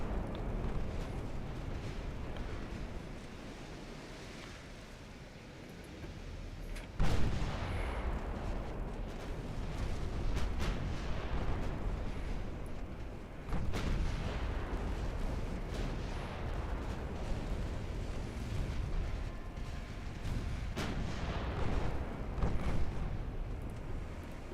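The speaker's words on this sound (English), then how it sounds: "We're just going to just fire into groups of ships." Warship guns boom in the naval battle game Ultimate Admiral Dreadnoughts, heavy artillery salvos striking every few seconds over a constant deep rumble of battle, loud and close, with no talk.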